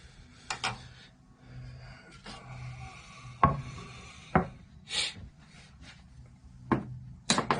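Zither pins go into a wooden three-string spoon fiddle as a series of scattered close wooden taps, scrapes and filing rubs, sharp and irregular, with quiet pauses between them and no speech.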